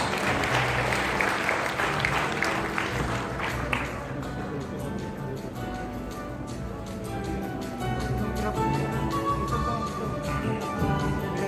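Audience applause at a disaster resilience forum, steady and sustained clapping from a crowd that thins slightly after the first few seconds and continues throughout, with no speech over it.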